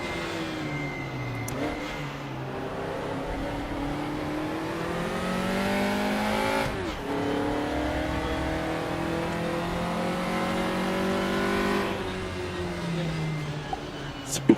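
Race car engines in the RaceRoom racing simulator rev and accelerate continuously, rising and falling in pitch through gear changes, loud and up front, with a person talking over them.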